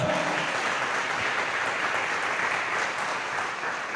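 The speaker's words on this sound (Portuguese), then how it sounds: "Pode aplaudir a Ele a honra, a glória." A church congregation claps in a steady, even wash of applause during a worship service, heard from a moderate distance and holding at constant level without pause.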